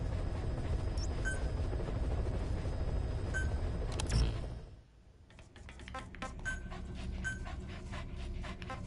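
A dog in Metal Gear Solid V panting steadily and close, with a few sharp clicks, before the panting stops and quieter rhythmic clicking follows.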